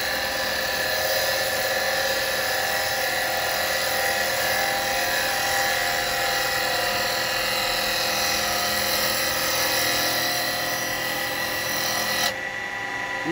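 A wood lathe spins a yew bowl blank while a spindle gouge roughs it out. A loud, steady whirring drone with a rasping cutting texture runs unbroken for the whole stretch, then changes abruptly right at the end.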